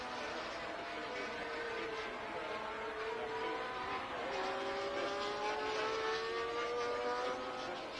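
Formula 1 cars racing at the Swedish Grand Prix in Anderstorp, including Fittipaldi's yellow car and Hunt's McLaren, with engines whining and shifting in pitch as they pass, a steady loud roar throughout.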